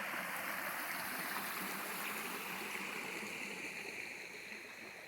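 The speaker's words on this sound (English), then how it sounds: "Very beautiful Panther Creek." Panther Creek pours steadily over a natural cascade, a dense, continuous rush of flowing water with no breaks, loud and close throughout and easing off slightly toward the end.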